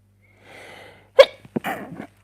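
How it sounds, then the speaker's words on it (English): A person sneezes once indoors: a soft breathy inhale builds up, then a sharp, loud burst of the sneeze followed by a brief trailing exhale, close to the microphone with nothing else around it. "I'm going to sneeze."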